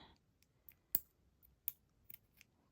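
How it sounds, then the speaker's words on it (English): Scissors snipping bracelet elastic in a quiet room, a few sharp isolated clicks and cuts spaced irregularly, faint and close. "Cut the elastic."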